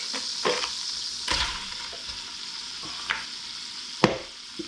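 Andouille sausage sizzling in a pot for one-pot jambalaya, a steady close hiss of frying broken by a few clacks and scrapes of a stirring utensil.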